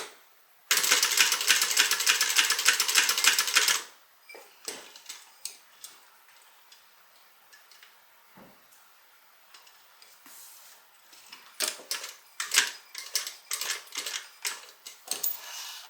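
A sewing machine back-stitching the seam of a solid-front tote bag with contrasting sides gives a loud, dense mechanical run of about three seconds, then quieter scattered ticks and short stitching bursts.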